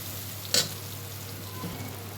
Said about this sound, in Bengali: এবার সুন্দরভাবে মশলাটাকে কষিয়ে নিতে হবে